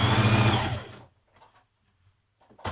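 A sewing machine stitches a seam on skirt pocket pieces in a short, close, steady whirr that cuts off after about a second, then faint fabric handling follows.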